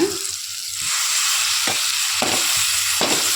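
Fenugreek leaves sizzle in a pan of oil after tomatoes were cooked down, a steady close frying hiss with several soft stirring scrapes and clinks at intervals, with no talking.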